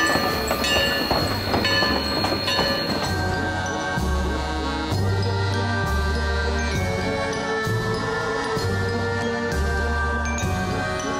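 A train on the Huckleberry Railroad at Crossroads Village rolls along the rails with a steady, rhythmic clickety-clack of wheels over track joints, accompanied by ringing tonal sounds, close and continuous.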